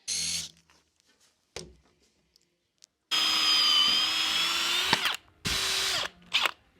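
An old-school cordless drill drives galvanized lag screws into a wooden beam in short loud bursts, with one long whirring run in the middle and brief quiet gaps between.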